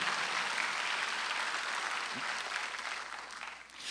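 A congregation claps during a Sunday worship service in a church, a dense, steady wash of applause that continues for several seconds before easing slightly.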